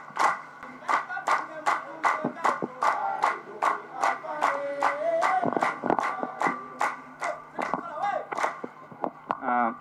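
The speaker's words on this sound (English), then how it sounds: "May you join our hands and we give a warm round of applause." Rhythmic, unison clapping from an audience at a canine course passing-out ceremony, strong regular beats with voices chanting or singing along over the top.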